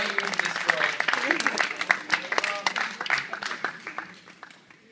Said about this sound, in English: if you could give your parents a round of applause